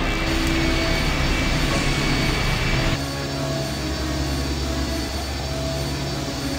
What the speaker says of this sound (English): The engine's starting up again.